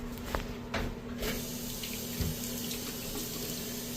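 Water runs steadily from a bathroom tap into a basin with a constant hiss and splash, a few faint clunks near the start, the line flushed after water heater repair.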